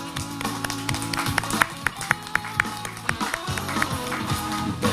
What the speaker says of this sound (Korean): 여러분 환영의 박수 부탁드립니다.